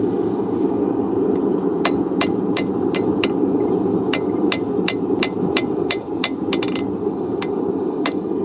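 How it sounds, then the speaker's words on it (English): A hammer striking hot metal on an anvil at a forge, a rapid series of sharp ringing clangs in an uneven rhythm over a loud, steady roar of background blower noise. "We'll hit it right here on the diamond so that it'll spread out to our head."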